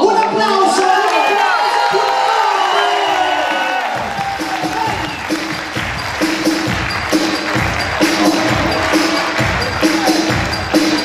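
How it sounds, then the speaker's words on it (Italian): A theatre crowd at the Festhalle Fellbach cheers and claps as comedians Enzo Salvi and Mariano D'Angelo take the stage; whoops and shouts give way after a few seconds to loud, rhythmic group clapping. "Un applauso."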